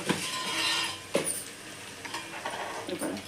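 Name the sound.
chopped onions and green chillies frying in oil in a pan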